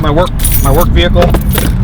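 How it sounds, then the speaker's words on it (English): A set of keys to a work vehicle jangles steadily throughout, close and fairly loud, with a person talking over the metal rattle. "These are keys to my work vehicle."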